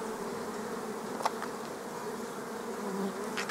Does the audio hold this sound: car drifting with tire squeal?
no